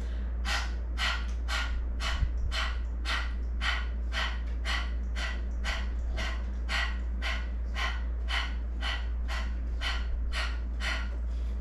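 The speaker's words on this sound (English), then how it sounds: "Sometimes the lion's breath can also be helpful, and that's where you stick your tongue out." Rapid, forceful yoga breaths in lion's breath style pump the abdomen: about eighteen sharp, evenly spaced exhalation bursts, close and steady, with no talking.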